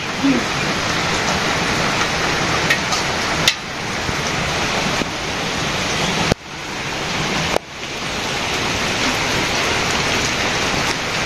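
Heavy rain pours down steadily in a village during rice harvest season, a loud dense roar of drops on surfaces that fills the whole stretch with only brief dips and a few sharp knocks.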